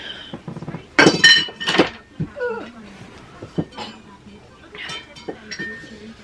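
A glass juice bottle clinks sharply several times at close range, with bright rattling knocks mixed with laughter and other vocal sounds.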